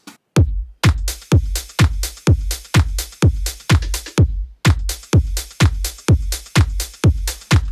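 Full drum pattern from a house remix of a track: punchy four-on-the-floor kicks with cymbal and percussion on top, steady and loud, with a brief dropout near the start and another midway.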